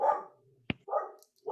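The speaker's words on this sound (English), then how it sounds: "you can hear my dog barking right there" A dog barks a few times in short, separate bursts, moderately loud and somewhat distant, with a sharp click between the barks and quiet room tone otherwise.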